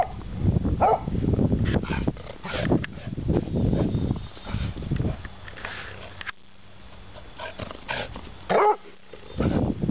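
A dog out in the snow sniffs and gives a few yips and barks amid rustling and movement, while a person speaks briefly nearby.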